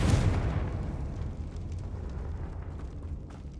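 Confringo fire spell bursting in Hogwarts Legacy, a single loud, deep explosion at the start that rolls away into a fading rumble and crackle, with nothing else over it.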